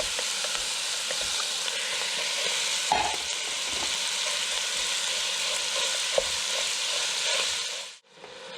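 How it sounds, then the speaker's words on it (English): Mild Italian sausage and hamburger meat browning in a pan, a steady close broadband sizzle with occasional scrapes and stirs of a utensil, continuous until it cuts off near the end. "Now that the hamburger and the sausage are browned"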